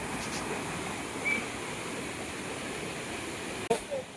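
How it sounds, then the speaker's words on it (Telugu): A waterfall at a hidden forest site in Andhra Pradesh, heard as a steady broadband roar that holds constant throughout, with a short thump near the end. "అల్టిమేట్ ఉంది వాటర్ ఫాల్స్."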